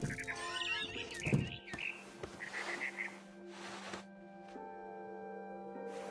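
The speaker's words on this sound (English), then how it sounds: "Then I heard chirping outside my window." Synthetic, game-like barn swallow chirps and tweets from What Remains of Edith Finch sound over a steady electronic hum and scattered clicks.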